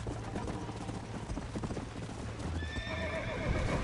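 Horse hooves clip-clopping at a gallop in the Red Dead Redemption video game, a steady rapid rhythm close up, with a whinny rising near the end over a low game music drone.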